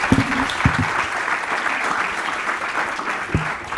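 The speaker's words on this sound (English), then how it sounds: "Let's give a round of applause for that." Audience applause follows a pitch at UC Berkeley's Collider Cup startup competition: a steady, dense clapping from a sizable crowd that holds evenly throughout, with a few brief low tones standing out at moments.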